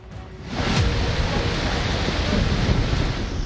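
A thunderstorm with rain over Karachi: a dense, steady roar of rainfall with a low rumble of thunder underneath, close and continuous throughout, no voices.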